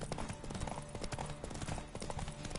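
Horse hooves clip-clopping in the video game The Witcher 3: Wild Hunt, a rapid, continuous galloping patter set in a dense, loud mix of game ambience and other sounds.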